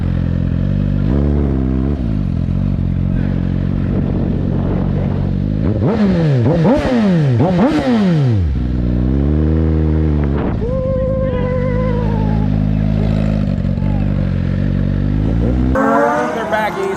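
Motorcycles rev hard while riding wheelies eastbound down a street, engines rising and falling in repeated loud pitch sweeps, with a steady drone under it and voices talking nearby.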